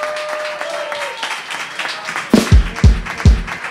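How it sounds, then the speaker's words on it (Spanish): Audience applause before a cover song, scattered clapping under a lingering tone, followed by several loud, close thumps near the end. "Un fuerte aplauso para ella."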